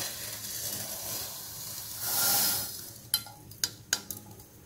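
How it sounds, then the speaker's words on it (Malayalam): Sugar pours into a pan with a brief, soft granular rush while spiced mulled wine is prepared, followed by several sharp metallic clinks of a utensil against the pan. "ഇനി പാത്രത്തിലോട്ട് ഈ ഒരു നാഴി പഞ്ചസാര ചേർത്ത് കൊടുക്കാം"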